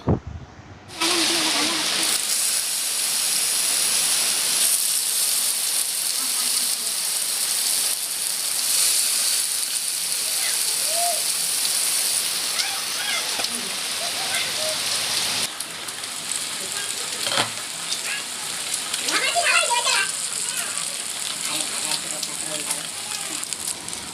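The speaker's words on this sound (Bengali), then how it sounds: "এবার ওভেনে ফ্রাইং প্যান বসিয়ে তেল দিয়ে পাতুরিগুলোকে একে একে ভেজে নেব।" Leaf-wrapped parcels of ridge gourd and prawn frying in oil in a pan, a steady hiss and crackle running throughout with occasional sharper spits, close and fairly loud with no talk.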